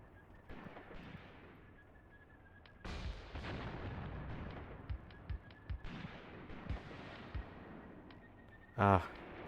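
Anti-tank guns fire in the WW2 game Mius Front: scattered heavy booms and sharp reports over a rumbling battlefield bed, ending with a loud, close blast near the end.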